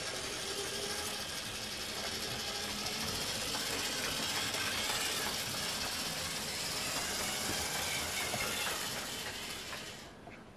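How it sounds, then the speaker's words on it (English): A model railway locomotive runs on a layout, its small electric motor and wheels producing a steady whirring, clattering mechanical hum that holds for several seconds, then fades away near the end. "I can hear the motor going."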